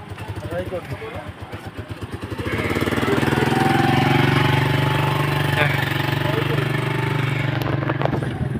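A bike's engine idles on a loop road on Maripipi Island, Biliran, as a steady, throbbing low drone that swells in after a few seconds and holds close and even, with voices talking over the start.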